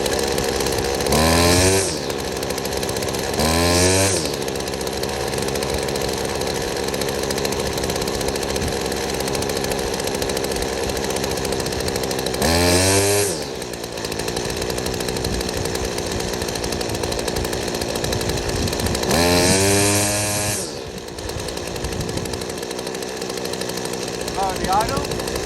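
A McCulloch whipper snipper's small two-stroke engine idles with a steady buzz and revs up sharply several times while its carburetor is adjusted for off-idle acceleration, close and loud.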